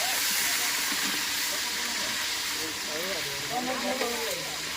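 Gunda frying in hot oil, a steady broadband sizzling hiss that holds throughout, with a voice speaking faintly over it in the second half.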